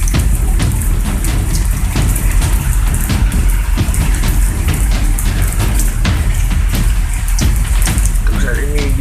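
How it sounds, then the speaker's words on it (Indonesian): Rain falling in strong wind makes a dense, loud, continuous patter and hiss with gusty surges, heard up close without pause. "Ini pada hujan"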